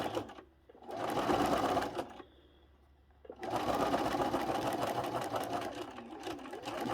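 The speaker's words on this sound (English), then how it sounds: "just sew it to the edge." Sewing machine stitching a quilt block for a drunkard's path pattern, running in two loud bursts separated by a brief quieter pause, close by with no talk.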